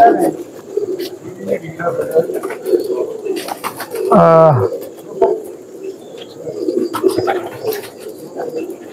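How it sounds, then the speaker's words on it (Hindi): A red fantail pigeon gives one short, throaty coo midway through, rising briefly above a steady bed of background murmur and noise. "ये लाल फनियर कबूतर है दोस्तों ओरिजिनल माशाल्लाह जी"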